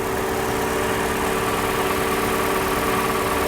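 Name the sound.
2.5 liter 4-cylinder car engine idling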